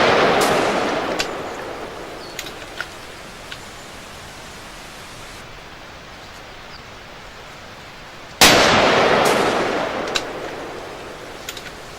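Shots from a Mauser M18 rifle in .243 Winchester firing Remington ammunition outdoors, a few sharp cracks spaced apart over steady wind-like hiss, with one loud blast partway through followed by more faint distant reports.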